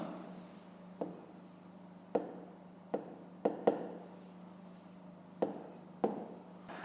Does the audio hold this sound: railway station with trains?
no